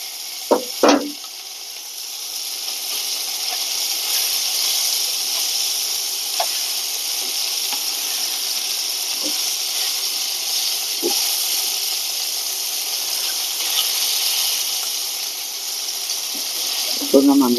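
Barbecue meat pieces sizzling in a frying pan, a loud, steady hiss of fat and juices crackling close up, broken by a few clinks and scrapes of handling and some talk.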